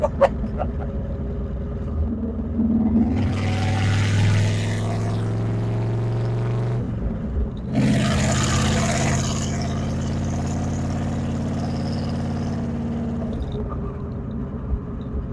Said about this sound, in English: we got to rev it under the overpass